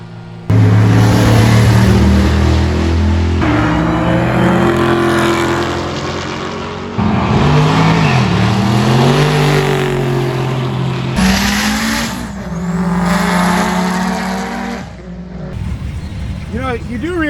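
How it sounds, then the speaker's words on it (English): Street cars roll racing at Alaska Raceway Park make loud, close engine roars that rise and fall through repeated revving surges, with voices partly mixed in. "Today is the very first roll race in the state of Alaska here at Alaska Raceway Park."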